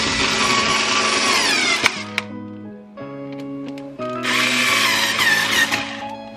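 A power drill drives screws while a Novi Stretch part is installed on a Dodge Charger, with loud whirring bursts at the start and end separated by pauses and short mechanical clicks.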